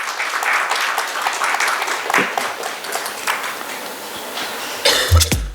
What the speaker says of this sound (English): Can we have a round of applause for sir,